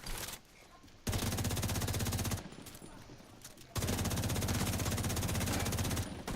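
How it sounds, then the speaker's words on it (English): Sustained automatic gunfire in the video game The Division 2 comes in two long, loud bursts separated by a brief quieter gap. "who's shooting at me now?"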